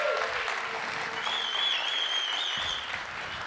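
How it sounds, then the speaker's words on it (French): Loud, sustained applause from a crowd at a political gathering for the Nantes municipal election campaign, dense steady clapping with a whistle-like tone riding over it midway, continuing unbroken throughout. "On peut l'applaudir très très fort."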